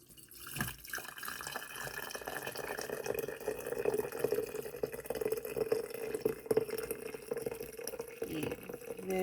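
Near-boiling water being poured while making simple syrup from mandarin orange peels, a steady, close trickling flow that runs for several seconds.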